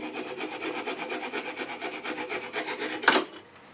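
Bit cutting a 3/8 inch hole through a wooden part for a bug pull toy: steady, fluttering grinding rasp that ends in a short, louder burst as it finishes. No voices.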